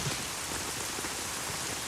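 Heavy rain pours down steadily in a film scene, a dense, loud, unbroken hiss of drops striking surfaces with no break.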